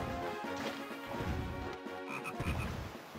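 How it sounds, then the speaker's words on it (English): Frog croaking from the video game Zelda Phantom Hourglass, steady and prominent amid dense game music and effects that fill the whole stretch. "There he is, there's another frog over here."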